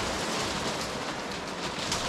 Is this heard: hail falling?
yes